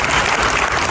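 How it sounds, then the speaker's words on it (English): Dense audience applause fills the room with a steady, loud wash of many hands clapping at once, continuous and unbroken from start to finish. "we can give a round of applause for that"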